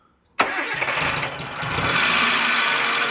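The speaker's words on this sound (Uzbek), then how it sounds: "Yaxshi motor." A car engine bursts into life after brief silence, then settles into a loud, steady idle close by, with a rising hum that holds for the rest of the clip.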